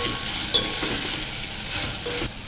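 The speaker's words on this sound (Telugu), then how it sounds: "కొంచెం సేపు ఫ్రై అవ్వాలా?" Greens fry in a pan for Telangana-style majjiga pulusu, giving a steady bright sizzle with a brief clink of stirring early on, fairly loud and close, with no talking.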